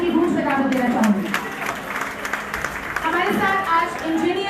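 Audience at an Urdu poetry mushaira applauding with scattered clapping under a busy hall, while voices talk and murmur through the crowd noise.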